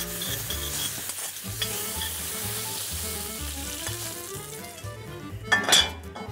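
Pancetta and caramelized onions sizzle steadily in a hot pan while a utensil stirs and scrapes, with a rhythmic low clatter and a sharp metallic clink near the end.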